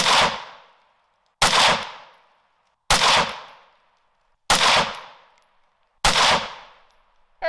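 A rifle fitted with a Swampfox Saber 5x36mm prism optic fires five evenly spaced shots outdoors, each a sharp, loud crack with a decaying echo, and nothing else in between.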